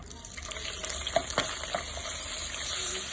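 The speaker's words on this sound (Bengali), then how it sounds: "এবার দিয়ে দিচ্ছি তেলের মধ্যে আমি চিংড়ি" Prawns with ginger and garlic hit hot oil and sizzle up close, a steady hiss broken by a few sharp pops and scraping stirs, with no talking.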